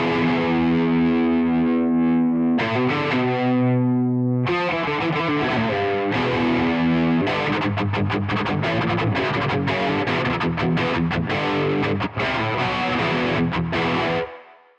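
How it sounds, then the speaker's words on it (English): Electric guitar played through a Kuassa Efektor distortion pedal emulation cranked hard, loud saturated chords and riffs ringing with heavy fuzz, sustained and continuous with brief pauses between phrases, no voices. "Let's try driving this hardcore."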